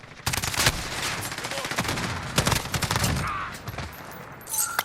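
Automatic rifle fire in Call of Duty Modern Warfare crackles in rapid bursts, dense volleys of sharp shots at moderate loudness with brief pauses between them.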